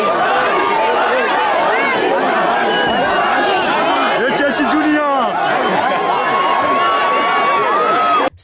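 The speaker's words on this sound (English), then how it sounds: "the crowd that cheered him on as he walked into the polling station" A loud, dense crowd at a polling station, excited chatter and shouting voices packed together without pause, with some cheering mixed into the babble.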